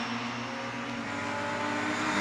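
Mini7 race cars lapping Croft circuit near Paddock and Harewood Hill, a continuous engine drone that rises slightly in pitch and loudness as the cars pass, with no speech.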